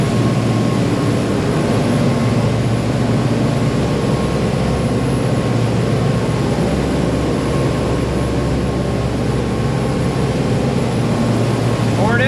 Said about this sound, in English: Engine's healthy, thank God.